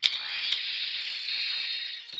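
A bright, sustained electronic confirmation tone from a Power Rangers Samurai toy rings out after a click, holding steady for about two seconds before cutting off.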